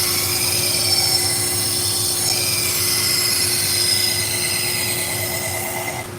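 Fiskars Easy Action scissors blade being sharpened slowly on a 120 grit abrasive belt, a steady grinding hiss with a constant motor hum throughout, fairly loud and continuous with no talking.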